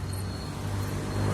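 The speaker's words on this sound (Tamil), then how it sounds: "வண்டி பாருங்க எவ்வளோ வருது" Traffic streams along a busy street with a steady low rumble of passing cars and vehicles nearby, fairly continuous and growing slightly louder toward the end.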